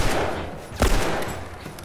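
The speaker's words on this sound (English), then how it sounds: "I shot you 3 times in your nuts" Gunshots in The Last of Us, a short burst of sharp, loud reports in quick succession with one especially strong crack near the middle, set against a dense, noisy game backdrop.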